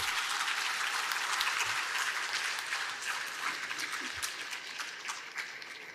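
Audience applause at a vote of thanks during an FPO Connect conference, a dense steady clatter of many hands lasting throughout and slowly thinning toward the end, with no voices over it.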